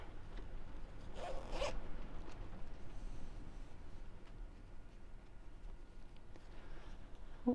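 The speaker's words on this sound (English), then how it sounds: "I just need to close the zip." A zip is pulled closed on a sewn fabric wallet in one quick, close rasp near the start, followed by quiet handling and soft room noise.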